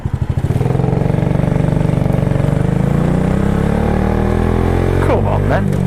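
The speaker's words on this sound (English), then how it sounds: "Waiting at lights on my scooty, I'm on my scooty," A Suzuki Address 125cc scooter idles at traffic lights, a close, loud, steady putter with a fast even pulse. A voice sings over it.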